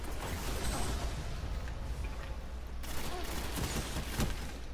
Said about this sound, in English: Couldn't outpace a freaking machine gun